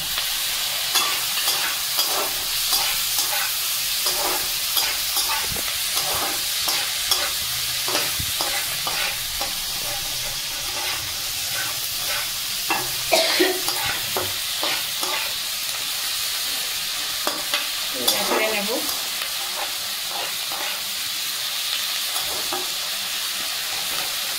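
Two chopped tomatoes fry over a high flame in a pan while being stirred, giving a steady close sizzle with repeated scraping stir strokes throughout and no talking.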